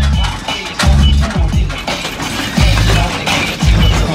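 At an outdoor lowrider car show with a hydraulic competition, a hopping car slams down on its body with heavy, deep thuds spaced a second or two apart, over a constant roar of crowd noise.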